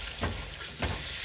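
Greek feta saganaki cheese fries in a pan with a steady, close crackling sizzle that swells twice in brief bursts, with no voices.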